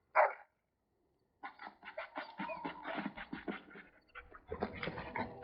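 A dog in the video game Dragon Age Origins gives one short sharp bark, then after a pause a run of panting, scratching and snuffling sounds, close and fairly quiet.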